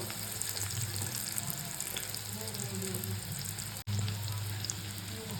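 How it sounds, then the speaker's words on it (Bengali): Potatoes fry in hot oil with a steady bubbling sizzle and a brief dropout partway through, with no talking. "তেলটা গরম হয়ে গেছে, আলুটা ভেজে নেবো এখন।"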